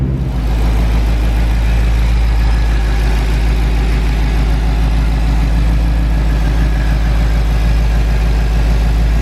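A Shelby GT350 engine idles loudly and steadily nearby, warming to operating temperature, a constant low rumble with no change in pitch.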